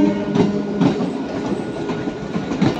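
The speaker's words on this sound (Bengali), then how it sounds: "ট্রেনটি কিন্তু আস্তে আস্তে চলে যাচ্ছে হাওড়ার উদ্দেশ্যে" A train slowly departing a station rolls along steadily with a low rumble and periodic clacking of wheels over rail joints, close by and continuous.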